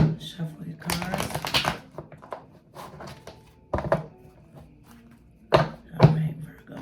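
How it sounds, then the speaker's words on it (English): Soft rustling and shuffling of tarot cards in bursts, with several sharper taps and thumps as the deck is handled, close by; a voice speaks briefly in between. "Shuffle your cards."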